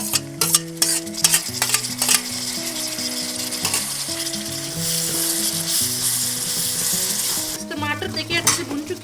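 Tomatoes frying in a pan with garlic, onion and green chili masala: a steady close sizzle broken by repeated scraping stirs, with music playing underneath throughout.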